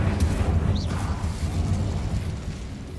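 A fire spell cast in the video game Hogwarts Legacy, a loud low rumbling whoosh with a burst at the start that rolls on and slowly fades, with no talking.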